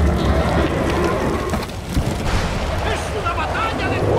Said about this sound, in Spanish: Vaya tormenta.